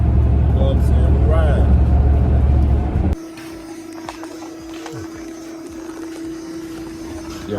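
A Chevy with its exhaust pipes run out the back cruises on the interstate, a loud, deep rumbling drone for about three seconds before dropping to a quieter steady hum with a constant tone, while someone talks over it.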